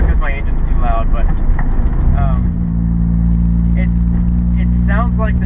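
A Honda S2000 drives along with a steady, loud engine drone and road rumble that settles into an even hum partway through, while a person talks over it.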